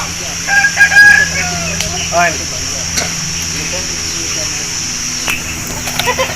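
Crowing from aseel roosters rings out near the start, followed by softer clucks and distant crows over a steady barnyard hum, with a voice heard faintly in the background.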